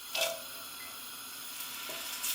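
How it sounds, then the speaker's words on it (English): Onions go into hot olive oil for a meat-free curry, giving a faint, steady hiss of sizzling with a couple of brief louder bursts as they hit the pan. "I've got a good glug of olive oil in there. Let's throw the onions in first."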